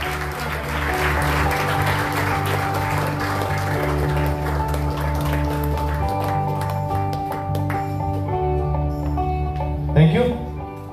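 Applause rises from the audience at a National Startup Day event, steady clapping over sustained musical tones that thins toward the end, with a brief knock near the close.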